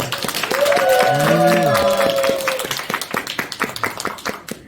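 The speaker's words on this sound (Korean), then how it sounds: "큰 박수로 모시겠습니다" An audience at a report meeting applauds to welcome a speaker, with steady clapping through the whole stretch and a tonal sound, like music or a voice, rising over it early on before fading.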